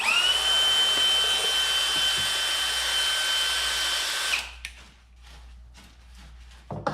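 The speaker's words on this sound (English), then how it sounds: "put it in my drill." A power drill runs steadily at high speed for about four seconds, twisting a bent length of lock wire into a double strand for a homemade downrigger ball, then winds down and stops, leaving faint handling noises.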